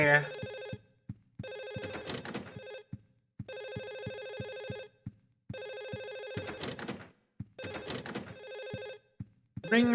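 An old-style telephone bell rings in repeated bursts separated by short pauses inside a video game apartment, loud and close, with a player's voice talking over the rings.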